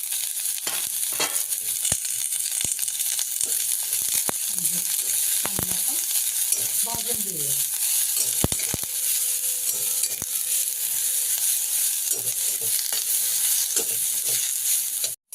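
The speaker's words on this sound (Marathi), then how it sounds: "आपला कांदा चांगला भाजलेला आहे" Sliced onion dry-roasting and sizzling in a hot pan for a Maharashtrian coconut-milk dried-fish curry, a steady close crackle with scattered stirring scrapes and clicks throughout, no talking.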